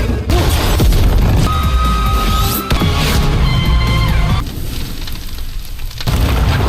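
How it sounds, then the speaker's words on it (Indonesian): A large explosion in an animated series blows apart a weapons warehouse: a loud, roaring blast with crackling debris and rumbling that swells and fades over several seconds, with no voices. "membuat sebuah ledakan besar sampai membuat gudang persenjataan hancur"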